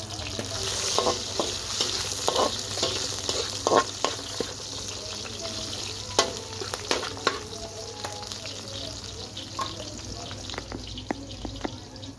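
Chicken sizzles and fries in a wok (kawa) over a fire, a steady hiss broken by frequent sharp clicks and scrapes of stirring, moderately near, with occasional faint voices.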